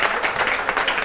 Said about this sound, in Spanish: Yo les pediría, por favor, un aplauso, por favor, fuerte